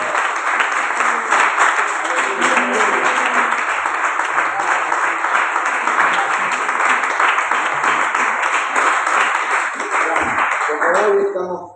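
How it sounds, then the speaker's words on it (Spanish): A church congregation applauds loudly and continuously for over ten seconds, a full wash of clapping with voices mixed in, stopping abruptly at the end. "Den un aplauso al Señor Jesucristo"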